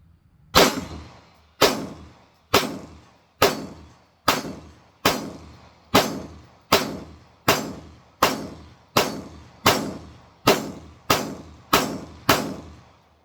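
A CZ Shadow 2 pistol fires about fourteen sharp, loud shots at a steady, unhurried pace, each crack ringing briefly before the next, with no talking.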